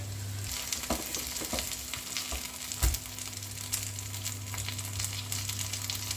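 Zucchini dough patties (biliashi) sizzle and crackle in hot oil, with scattered pops and a couple of faint knocks against the pan; no voices.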